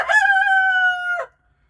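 A rooster gives a single loud, close crow lasting about a second, with a clear, sustained call, then quiet follows. No other chicken sounds stand out.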